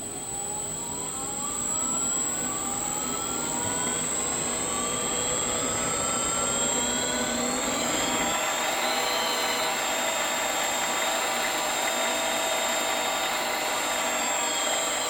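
A Sieg mini lathe motor runs in reverse with a steady, loud electric whine and hum throughout, its tone gliding slowly upward as the speed changes.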